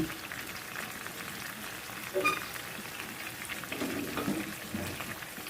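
A steady, soft sizzle of marinated chicken frying in oil until golden, with faint crackles and a few louder spatters partway through, heard up close.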